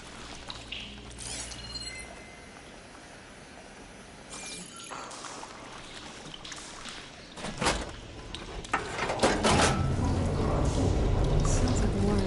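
After a valve is switched in Horizon Forbidden West, water starts to flow, a soft trickle that swells into a loud, rushing pour in the final seconds, with mechanical clanks earlier.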